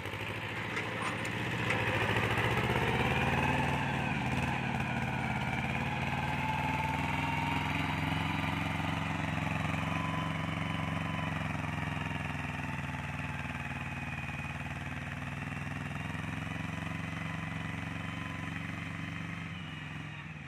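A two-cylinder, eight-speed farm tractor engine idles steadily for a long stretch, a low, even chugging drone heard fairly close.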